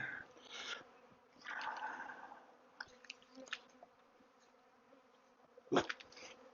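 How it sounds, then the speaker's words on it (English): Bees buzzing at a hive in uneven swells, a few close insects droning past over a low hum, with a brief louder buzz near the end. "more bees here too."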